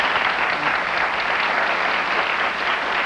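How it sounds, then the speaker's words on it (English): A TV studio audience applauds in a steady, full wash of clapping that keeps an even level for a few seconds, with no voices over it. "there's somebody clapping"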